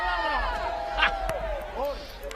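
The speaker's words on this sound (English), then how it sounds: "the Fijian supporters in the crowd loving the way that their Fijiana team are playing this wonderful" Fijian supporters cheer and shout in the stands at a women's rugby sevens match against Australia in Atlanta, their voices rising as a lively crowd roar beneath clear close-up talking.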